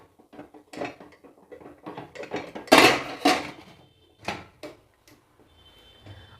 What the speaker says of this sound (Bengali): প্রেসার কুকারের ঢাকনাটা বন্ধ করে দেবো